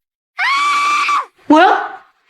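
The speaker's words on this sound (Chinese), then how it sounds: "屋里传来了孩子们的惨叫声" Two loud, high-pitched children's screams from a bedroom in quick succession, the first sustained and the second sharper and cut short, close and alone.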